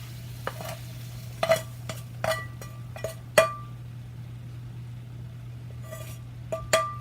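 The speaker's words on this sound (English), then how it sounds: "Now you're going to mix that all around and up." Sausage, cabbage and potatoes are stirred in a pan with a utensil, giving repeated clinks and scrapes over a low, steady sizzle.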